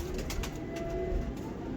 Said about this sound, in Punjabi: ਇਹ ਨਜਾਬ ਕਬੂਤਰ ਆ ਜੀ, ਪੁਰਾਣੀ ਨਸਲ ਦੇ ਕਬੂਤਰ ਭਰਾ ਜੀ